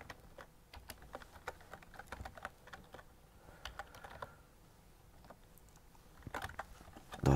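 Quiet computer keyboard typing during a coding session, a steady run of light, uneven key clicks and occasional short bursts, close and fairly soft with no talking.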